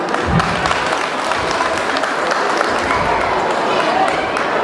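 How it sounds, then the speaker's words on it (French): Applause from an audience at a festival ceremony, a dense, steady wash of clapping that fills the whole moment at close range with no pauses. "Je voudrais vous demander d'applaudir tous nos parents, tous ceux qui se sont battus."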